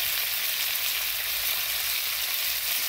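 Spices sizzle steadily in a hot pan just after turmeric powder goes in, a close, continuous hiss of frying with no pauses.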